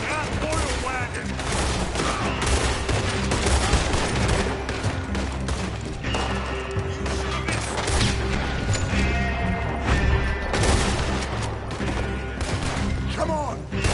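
Dense, continuous gunfire in the video game Red Dead Redemption 2, with rapid overlapping shots and crashes, loud throughout, with voices occasionally cutting through the barrage.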